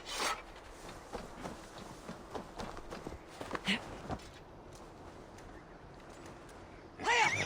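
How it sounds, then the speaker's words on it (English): Hooves of a horse galloping away in Assassin's Creed Valhalla, a rapid clip-clop of footfalls that fades off over several seconds, followed by a short chime-like game sound near the end. "think I scared my horse away."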